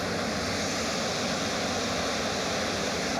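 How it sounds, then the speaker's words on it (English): Barron Falls, swollen after rain, roars as a powerful, unbroken wall of rushing water heard up close, with no voices. "Barron Falls going off."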